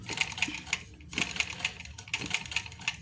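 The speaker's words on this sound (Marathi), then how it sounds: "आता हे इथनं शिलाईला सुरुवात होईल हे बघ कापड पुढं सरकत आहे ही शिलाई आली आहे" A domestic sewing machine stitches cloth during a lesson, its needle chattering in a steady rapid rhythm with brief pauses, close and fairly quiet, with no talking.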